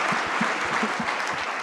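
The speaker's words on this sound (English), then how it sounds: "A huge round of applause for Piyush Mishra ji." An audience applauds Piyush Mishra at a film talk about Rockstar, a steady wash of clapping from a crowd running the whole stretch without pause.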